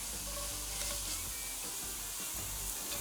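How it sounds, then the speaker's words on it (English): Ground breakfast sausage browns in a Dutch oven, a steady close sizzle and crackle of frying meat running throughout with occasional stirring scrapes, no voices. "You're gonna brown the ground sausage."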